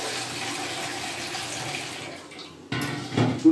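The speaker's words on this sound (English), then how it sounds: "just wash the vegetable with this water" Running tap water as vegetables are washed with a fruit and vegetable cleanser, a steady broadband rush that thins out briefly before a splash and louder flow resume near the end.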